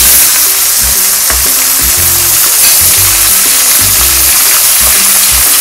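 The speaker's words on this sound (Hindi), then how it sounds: "इसको हम घी में अच्छे तरीके से फ्राई करेंगे" Minced mutton sizzles and fries in hot ghee with browned onions in a karahi, a steady loud crackling hiss with occasional stirring scrapes, no talking.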